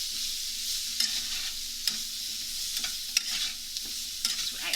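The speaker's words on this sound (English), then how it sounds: "I'm gonna stir that around." Potatoes and beans frying in a pan are stirred, a constant bright sizzle punctuated by scraping and clacking of the utensil against the pan, close and fairly loud with no talking.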